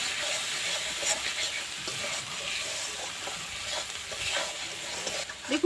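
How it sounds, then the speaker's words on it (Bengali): Vegetable-curry spices with turmeric and chili powder are stir-fried in a pan, producing a continuous near sizzle with rhythmic scraping strokes of a spatula. "এবার দিয়ে দেব হলুদ গুঁড়ো, দিয়ে দেব লঙ্কা গুঁড়ো, পরিমাণ মতো লবণ দিয়ে দেব। দিয়ে মশলাটা ভালো করে কষিয়ে নেব।"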